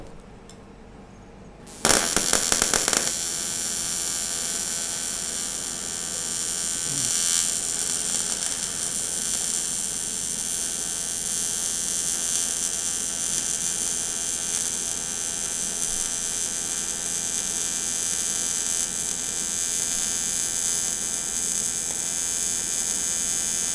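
TIG welding an aluminium car body panel: after a short quiet start, a steady electric buzzing hiss begins and holds, even and fairly loud, for the rest of the clip with no talking.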